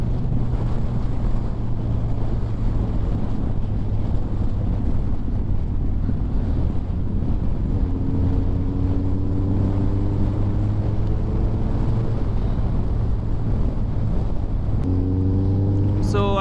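A motorcycle riding along a road in a group ride, its engine a steady low drone under heavy, continuous wind buffeting at the microphone, loud and close throughout, with a rising engine pitch near the end.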